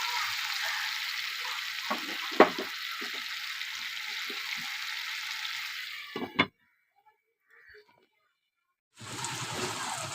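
Unripe tomato and prawns fry in a pan with a steady hissing sizzle and occasional spatters, under a voice. The sizzle drops out to near silence, then resumes near the end.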